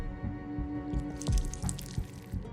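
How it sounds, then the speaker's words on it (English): Water poured into a bottle in the video game Whispers of a Machine, a close trickle and dripping splash over a steady tonal game background hum, with no talk. "I'll go and add some water."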